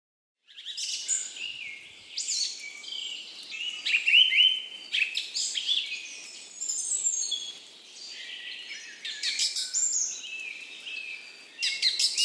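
Many birds chirp and tweet in overlapping bursts, a busy flock calling steadily throughout at moderate volume with no voices.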